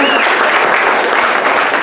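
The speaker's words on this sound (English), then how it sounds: "So just give them a round of applause" Loud, close applause from an audience at a college presentation event forms a thick, unbroken roar of hand claps for about two seconds.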